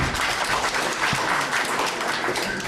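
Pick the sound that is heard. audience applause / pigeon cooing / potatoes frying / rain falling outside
audience applause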